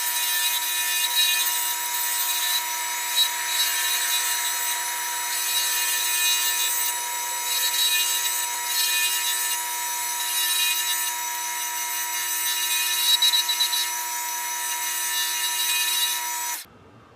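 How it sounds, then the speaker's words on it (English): A scraper cutting a stabilized, very dense Curly Koa pen blank on a lathe, a loud continuous high whine with shifting scraping texture, stopping abruptly at the end. "I'm getting a much better cut out of the scraper"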